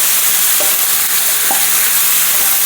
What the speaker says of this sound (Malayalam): വെളിച്ചെണ്ണയിൽ കിടന്നിങ്ങനെ ഒന്ന് വഴന്ന് കിട്ടണം